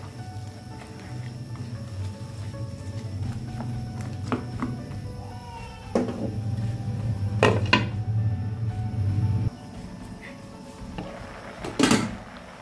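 A spoon stirs turmeric into a cooking pot on the stove, giving a low simmering background with several sharp metallic clinks and scrapes, and a voice speaks softly now and then.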